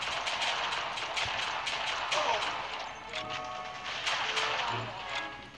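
Shots from the Dual Flintstock Pistols in Respawnables, several sharp cracks spaced irregularly amid game clatter and impacts, with a voice talking underneath.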